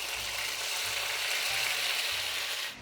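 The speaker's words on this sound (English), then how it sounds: "Let's see if it's sizzling." Steady, loud sizzling of pork frying in a hot pan, with faint rhythmic low thumps underneath.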